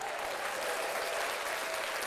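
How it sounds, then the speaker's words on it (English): Steady, dense applause from an audience on a podcast, fairly faint and uniform throughout with no talking over it. "Clap that up."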